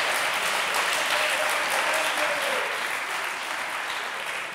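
An audience at a Spanish political debate applauds in a dense, steady wash of clapping that holds for several seconds and tapers slightly toward the end.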